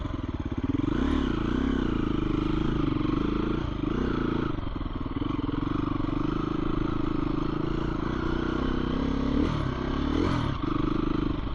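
A dirt motorcycle with a troublesome clutch rides a trail on a moto camping trip, its engine droning loud and steady with clattering and brief revs throughout.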